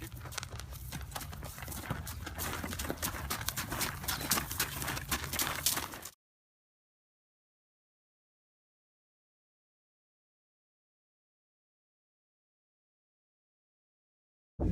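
Hooves clip-clop steadily over a hard surface for several seconds as horses walk, then everything drops to near silence.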